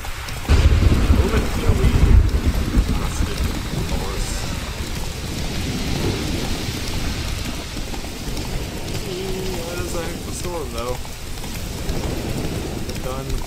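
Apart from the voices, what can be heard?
thunderstorm with rain in Witcher 3 video game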